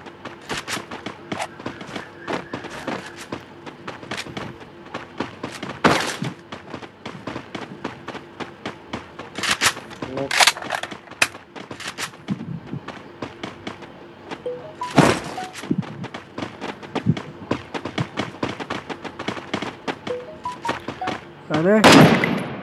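Gunfire in the video game Free Fire, with scattered sharp shots and short bursts spread across the stretch, a loud cluster near the end, over a steady game background hum.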